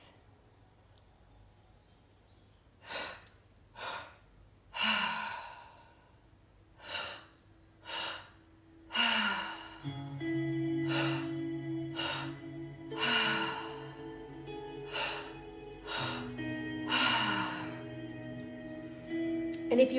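Deep, audible breaths in a breathwork session, with rhythmic inhales and exhales every couple of seconds, close to the listener. A sustained musical drone joins partway through.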